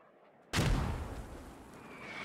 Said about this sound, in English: It looked like those mortars took down 1 or 2 guys over here.